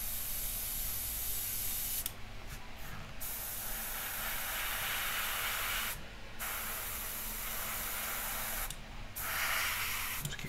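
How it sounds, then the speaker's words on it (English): An airbrush sprays paint onto a lathe-turned topgallant mast for a 1/84 HMS Victory model ship, a loud, steady hiss broken by three short pauses into four long bursts. "Just keep turning the mast as your airbrush is on."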